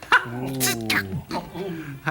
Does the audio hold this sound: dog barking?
yes